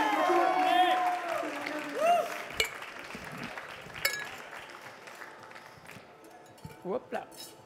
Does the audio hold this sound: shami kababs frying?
no